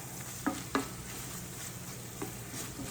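Onions cooking for Philly cheese steak sizzle quietly in a pan, a soft continuous hiss with two or three brief scraping clicks of a utensil.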